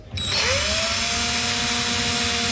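A power drill spins up and bores into a wooden motorcycle handlebar, a steady loud whine that holds after a brief start, close up and with no talk.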